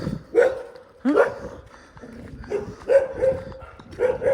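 Several sharp dog barks come in quick bursts, fairly close and loud, with short pauses between them.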